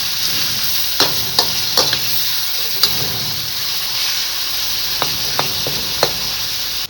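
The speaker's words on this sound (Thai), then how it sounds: "เริ่มผัดแล้วนะคะทุกคน ผัดหมูสับนะคะ ใส่คะน้าครับ ใส่กระเทียมก่อนนะคะทุกคน" Minced pork with kale and garlic stir-fries in a pan, with a steady close sizzle and sharp scattered clinks and scrapes of the spatula striking the pan at irregular moments.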